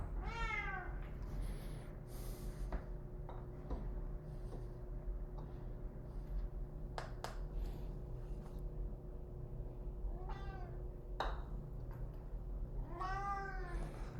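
A cat meows several times indoors, drawn-out wavering cries spread across the stretch and loudest near the end, over a steady low hum with a few soft knocks between calls.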